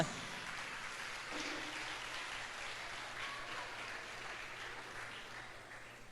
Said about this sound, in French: Je vous demande également d'applaudir nos chères jardinières, nos chères institutrices.